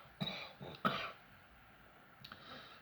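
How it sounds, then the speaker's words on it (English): A few quiet, short coughs close by, then near silence with faint background noise. "sorry, I've got a bit of a cough."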